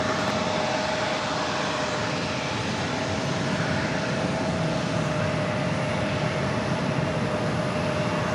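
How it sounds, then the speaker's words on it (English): Jet airliner engines roar at New York JFK airport, a continuous broad rushing drone with a faint steady whine, sustained and even throughout with no talk. "Next takeoff is JetBlue Flight 8565 heading to Albuquerque, New Mexico in an A320."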